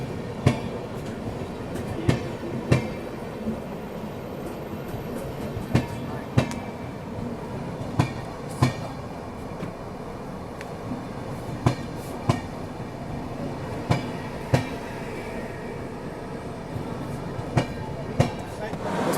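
The Jharkhand Sampark Kranti express, running between Ranchi and Anand Vihar, rolls past near Tundla with a continuous heavy rumble punctuated by rhythmic clickety-clack wheel beats over nearly twenty seconds.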